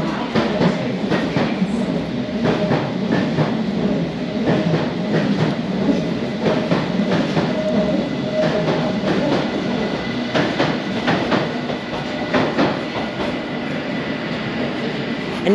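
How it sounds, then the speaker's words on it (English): An overground train rumbles and rattles steadily below Whitechapel Station, with rhythmic clatter of wheels on track continuing throughout, fairly loud and constant. "And you can hear the overground rattling below."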